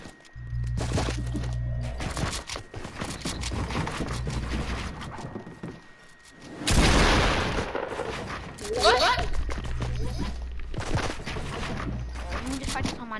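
Rapid bursts of gunfire in a shooting video game, dense volleys of shots running almost continuously with a heavier blast midway, loud and close, with voices under the firing.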